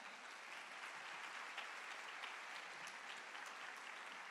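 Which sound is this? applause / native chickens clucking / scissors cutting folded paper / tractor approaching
applause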